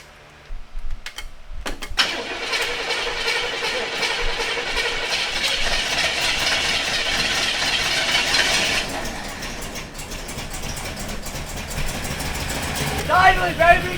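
A 1985 Chevrolet K30 CUCV truck engine idles steadily after a motor swap, a continuous rumbling drone close by with a rough start at the beginning. People talk over the engine throughout.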